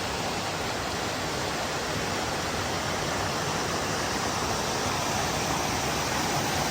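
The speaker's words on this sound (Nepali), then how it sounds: "अति राम्रो झरना आहा चिसो पानीमा चिल गर्न आउन सक्नुहुन्छ" A waterfall by a green hillside roars in a constant, dense rush of falling water, steady and close, with no voices.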